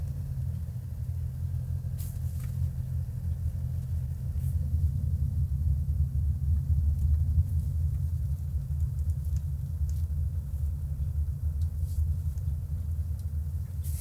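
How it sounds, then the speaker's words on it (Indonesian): Steady low diesel engine drone from an SUV, heard from inside the cabin while driving, a constant close rumble with faint road noise and no talking. "Kedengeran suara dieselnya doang. Suara mesinnya."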